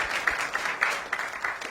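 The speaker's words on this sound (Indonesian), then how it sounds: "Tepuk tangan untuk Tuhan yang memperlengkapi." A church congregation claps at a worship service: a faint, brief patter of irregular handclaps with sharp individual slaps and no speech.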